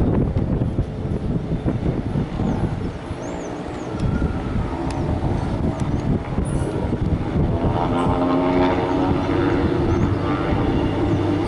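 An airplane takes off at Sorocaba Airport, its engines a loud, steady broadband roar mixed with heavy wind buffeting the microphone, with no talking over it.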